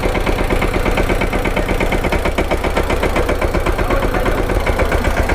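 A Mahindra Yuvraj 215 NXT mini tractor with a front loader bucket runs steadily nearby, its small diesel engine producing a loud, rhythmic chugging throb throughout.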